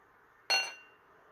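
A single sharp clink of a beer glass as a Bedlam Brewery Pilsner is handled for pouring, bright and ringing briefly before fading into quiet room tone.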